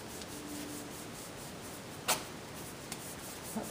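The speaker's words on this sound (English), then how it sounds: "I'm rubbing and then coming down and pulling, making sure that skin's tight." Hand rubbing over a wax strip pressed onto a leg during a half-leg waxing, a soft steady friction sound with a brief louder rip-like burst near two seconds, close and quiet.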